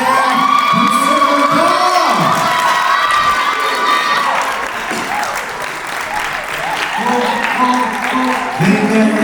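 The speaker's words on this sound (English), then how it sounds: "je vous demande d'applaudir très fort Guerlain Voltaire" A crowd at a beauty bar awards ceremony applauds loudly and steadily, with cheering and whoops mixed in, the dense clapping filling the room throughout while voices call out.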